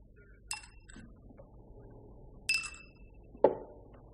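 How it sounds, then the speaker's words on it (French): Ice cubes clink into a glass of scotch, three sharp, bright chinks spaced a second or two apart against a quiet room. "2 glaçons."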